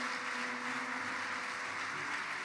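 A church congregation applauds steadily to acclaim the Lord, a dense, even wash of clapping that fills the whole moment.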